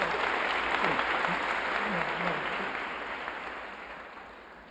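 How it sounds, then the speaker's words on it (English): Student audience clapping at the end of a 1985 lecture, a broad sustained wash of applause that slowly fades over several seconds, heard alone with no speech. "I don't know why you clap."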